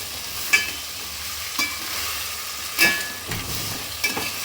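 Crab with garlic and tomato stirred in a pan for crab curry, a soft sizzle broken by several distinct scraping strokes of the spoon, close by.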